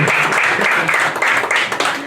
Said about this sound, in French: Candidat numéro 2, sous vos applaudissements